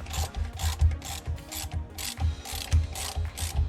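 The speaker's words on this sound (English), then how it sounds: "it is time to torque these bolts up 49 foot-pounds" A ratchet wrench tightening driveshaft bolts on a Hellcat, with rapid repeated clicking strokes in quick bursts, close and clear with no talk.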